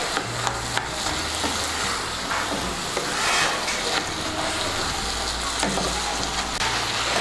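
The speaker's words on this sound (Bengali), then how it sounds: "এখন আমি এভাবে একটু ম্যাশ করে দেব কুমড়োটাকে।" Boiled ash gourd is mashed in a pan, giving soft wet squelches and scraping taps of a utensil against the pan over a low sizzling background, irregular and close.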